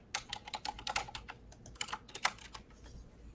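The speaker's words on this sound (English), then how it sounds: "It's a mechanical keyboard." Rapid clicking of keys on a mechanical keyboard, loud and close, in irregular bursts with brief pauses, no voices.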